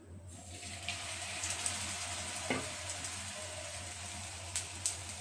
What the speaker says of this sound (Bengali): এখন আমি ব্যাটারটা দিয়ে ভেজে নিচ্ছি